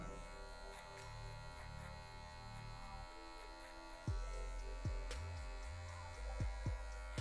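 Electric hair clipper humming steadily during a fade haircut, a constant motorized buzz running throughout with a few brief clicks and bumps near the end as the clipper is handled.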